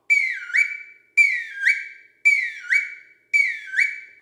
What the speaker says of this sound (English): The final one is going to be wood duck.